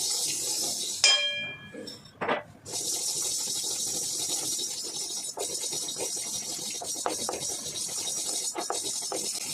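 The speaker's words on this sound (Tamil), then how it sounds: "அதை கடுகும் வெந்தயமும் நல்லா பொரியட்டும்." Mustard seeds and fenugreek frying in hot oil make a continuous hissing sizzle that runs nearly the whole time, with a brief clink of metal and a few small pops and scrapes early on.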